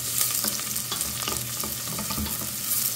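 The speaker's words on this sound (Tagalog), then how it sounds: "Then isunod natin yung ating sibuyas. And mix well lang guys." Chopped onions sizzle steadily in hot oil in a pot while a spoon stirs them, giving a constant close frying hiss broken by soft scraping and clinking, with no talk.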